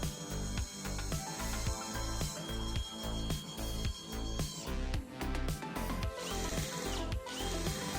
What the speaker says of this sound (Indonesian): Berikutnya saya menggunakan baut baja ringan yang sudah self drilling seperti ini.